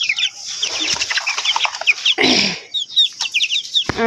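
Egg-laying hens, about 18 months old, cluck and chatter continuously, several birds close by in a busy, overlapping run of short calls with a louder burst midway.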